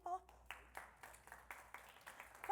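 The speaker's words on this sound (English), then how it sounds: "You can clap if you want to." Scattered claps from a small conference audience at a tech talk, a handful of separate hand claps spaced out over a couple of seconds, fairly faint, with a voice briefly audible at the start and end.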